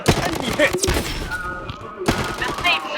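Rapid bursts of gunfire in a mobile battleground shooter game, punchy close shots clustered in two flurries with a short lull between, with a player's voice talking over them.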